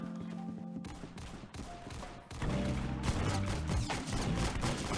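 Gunfire in the Roblox game Arsenal, rapid bursts of game weapon shots in quick succession, fairly faint, growing denser and louder in the second half.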